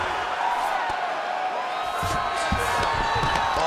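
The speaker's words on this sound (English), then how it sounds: "a standing ovation from this capacity crowd after that round" Capacity arena crowd in the UFC 5 video game roaring and cheering in a standing ovation after a round, a dense, sustained wall of cheers and whoops that swells slightly toward the end.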